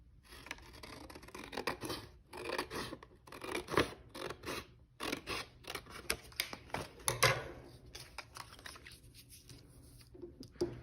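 Scissors snip through paper for an agamograph craft, a run of quick, close crisp cuts and rustles in irregular bursts, quiet and with no talking.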